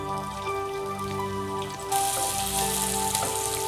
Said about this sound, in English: So onions we're going to fry golden brown.